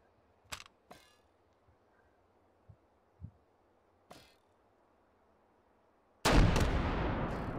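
Video game gunfire with heavy recoil: a few sharp separate shots with quiet gaps between them, then a loud sustained burst of fire near the end.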